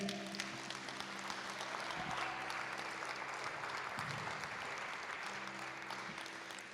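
A church congregation applauds, a steady wash of clapping that carries on throughout, heard at a moderate distance, with faint voices underneath.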